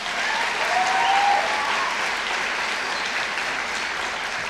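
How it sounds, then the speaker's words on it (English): Audience applause at a high school graduation ceremony, a dense, sustained roar of many hands clapping, fairly loud and even from start to finish, with a faint whistle early on. "Let me give them a round of applause."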